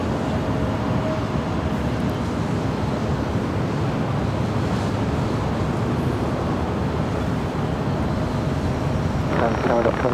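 A jet airliner arriving at Los Angeles International Airport, a continuous loud engine roar sustained throughout, mixed with wind and distant ambience, with faint voices underneath.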